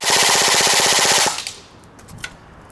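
A Cybergun Colt M4 CQB airsoft rifle firing one rapid full-auto burst of .20 BBs, a loud, even rattle lasting just over a second, then quiet with faint clicks.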